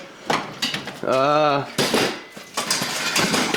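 Metal sockets clatter and clink as a hand rummages through a shop toolbox, with sharp rattling bursts and a brief ringing tone; someone talks over parts of it.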